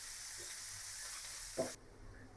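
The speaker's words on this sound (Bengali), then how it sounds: "পেঁয়াজ আর কাঁচামরিচ লাল লাল করে ভেজে নেব।" Chopped onions and green chilies fry in a pan with a soft, steady sizzle, broken by a single scraping stir before the hiss drops quieter.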